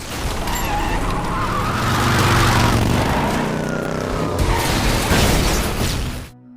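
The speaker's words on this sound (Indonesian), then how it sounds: "Kemudian Danny dan Jojo berusaha kabur dengan mengendarai sebuah mobil." A car speeds away during a film chase, its engine roar swelling and holding loud for several seconds amid tire and siren-like sounds before cutting off abruptly.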